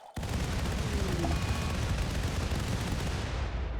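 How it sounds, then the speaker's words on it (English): Roughly a hundred grenades from a pawn's massive grenade belt go off together in the video game RimWorld: a loud, dense, unbroken roar of overlapping blasts and booms that starts abruptly and holds steady for several seconds, with no talking. "after the smoke cleared and the blinding flash of light from 100 or so grenades was gone"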